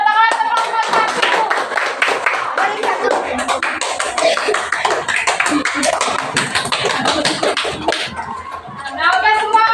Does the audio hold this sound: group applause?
yes